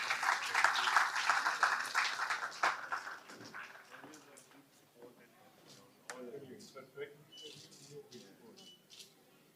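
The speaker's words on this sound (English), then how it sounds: "A big round of applause for him." Applause for the chief guest at an engineering college alumni meet: a burst of clapping that starts strong then thins out over several seconds, with voices talking in the room as it fades.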